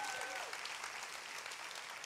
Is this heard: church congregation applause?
yes